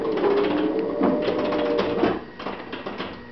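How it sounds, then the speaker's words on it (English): A Coney Island pinball machine in a garage game room gives off a busy run of electromechanical clicks and chimes after its extra ball button is bumped, loud and close, tapering off toward the end. "What you just heard was I was leaning and my hip hit this extra ball button on the Coney Island."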